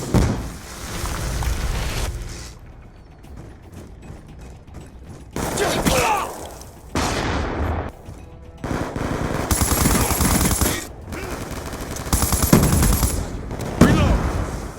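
Sustained bursts of MK48 machine gun fire in the video game Black Ops 2, loud and close, with rapid rattling volleys separated by short pauses and occasional mechanical clicks, under faint game voices.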